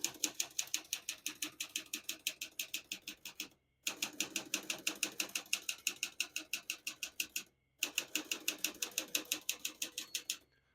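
Rapid, even keystrokes clack on a 1959 Smith-Corona Silent-Super portable typewriter, close and crisp, in three bursts separated by brief pauses.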